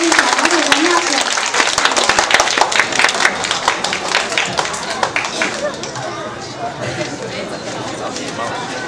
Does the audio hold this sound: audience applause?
yes